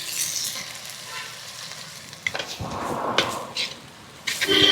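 Chili masala sizzles in a hot pan with bursts of frying crackle as a spoon scrapes and stirs, close and clear, no talking.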